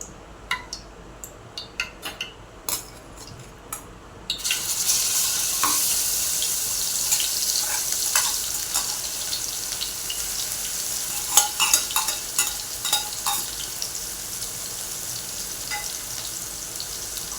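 Ground masala paste is dropped into hot oil in a pot for a spicy Marathi prawn curry. A loud, continuous sizzle erupts after a few quiet seconds, with repeated scraping and clinking of a stirring spoon.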